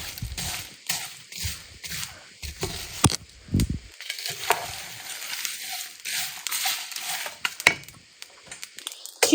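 Whole spices dry-roasting for homemade garam masala in a pan on the stove, with repeated scraping stirs and a soft continuous sizzle, close and steady.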